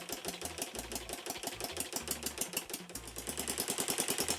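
A 3D-printed gas engine struggling to hold idle, chugging and popping in a rapid, uneven rhythm that swells louder toward the end, with no talking.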